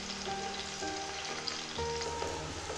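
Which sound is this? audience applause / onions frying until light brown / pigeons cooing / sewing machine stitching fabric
onions frying until light brown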